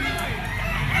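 A Thompson White stag rooster, WPC banded, crows once briefly and loudly up close at a busy poultry market, with voices talking in the background.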